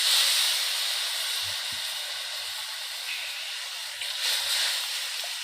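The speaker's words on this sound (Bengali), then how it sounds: "দেখো মাছের জন্য গ্রেভি আমাদের ফুটতে শুরু করেছে।" Fish kalia gravy for catla fish coming to a boil in a pan, a steady steam-like hiss running throughout with faint low bubbling pops underneath, no talk.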